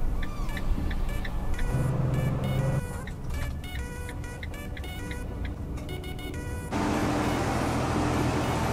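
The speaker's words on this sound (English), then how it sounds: "there's still delivery trucks out here" Street traffic on a city street in the early morning, with delivery trucks about: a steady close engine rumble and roadway noise fill the whole stretch, with a few high tonal beeps and a louder surge near the end.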